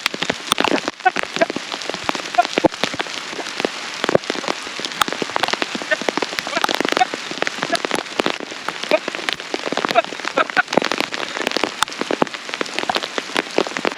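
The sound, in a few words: hail and rain falling on a field while ploughing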